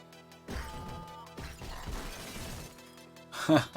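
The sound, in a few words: telephone booth thrown, crash, video game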